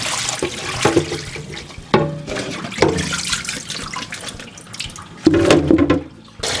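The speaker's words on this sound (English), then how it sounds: "Wash the inner bits, make sure all little pieces of pulp are out of there." Running water splashes as the inner bits of a cempedak fruit are washed under a tap, with irregular sloshing and surges of water, close and fairly loud.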